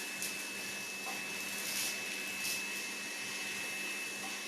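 Faint, steady whirring hum of a Riino R8 Cyclone cordless vacuum cleaner running with its extension tube attached, continuous and low in level.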